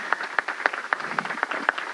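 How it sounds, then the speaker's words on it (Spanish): A small audience claps for a female commissioner at a panel on closing the digital gender gap, with scattered individual hand claps at a steady, moderately quick rhythm, fairly close and light. "un aplauso para la comisionada"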